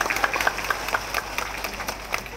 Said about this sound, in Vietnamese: các bác lại vỗ tay cho em phát nữa